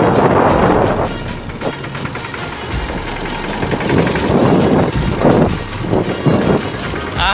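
A tractor engine rumbles and knocks as it turns in a farm field, loud and close with uneven surges, while voices talk intermittently over it.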